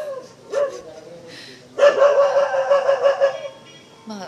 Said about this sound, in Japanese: 犬も泣いちゃってるで